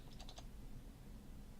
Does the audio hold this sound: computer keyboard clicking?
yes